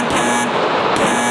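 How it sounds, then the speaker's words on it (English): A single sustained electronic shot-timer beep sounds loud and steady for over a second at a firearms shooting range, with no talk over it. "Wait for the beep."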